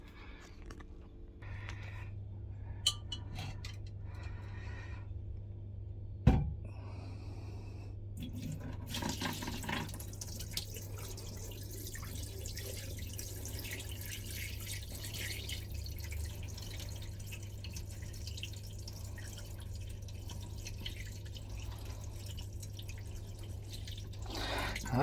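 Liquid poured off a beer yeast starter in a home-brewing setup, with a quiet, steady trickle and dripping over a constant low hum, a brief knock near the start, no talking.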